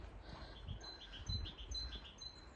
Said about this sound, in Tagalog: Narinig niyo yung ibon.